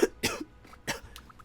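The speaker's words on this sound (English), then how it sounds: "this cough's really taking me out" Several sharp, harsh coughs from one person, who also clears their throat, come close and fairly loud in short bursts with brief pauses between them and no talk.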